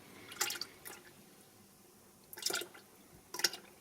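Gearbox oil from a 2010 BMW 118d 2-litre's ZF6 automatic transmission drips in a few separate, faint splashes spaced about a second apart, with quiet pauses and no talking.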